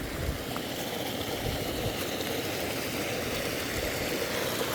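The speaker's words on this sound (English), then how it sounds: "Water is a-flowing." A creek flows at a trail crossing near Sewanee, Tennessee. Its rushing water gives a steady, dense, unbroken hiss, moderately loud and close, with no voices.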